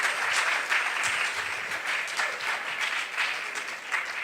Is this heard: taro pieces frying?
no